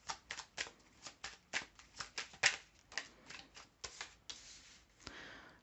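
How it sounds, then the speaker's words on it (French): Tarot cards are drawn and laid out for a three-card reading, a close series of quick papery flicks and slides coming one after another with short gaps between them. "je prends 3 cartes avec le tarot"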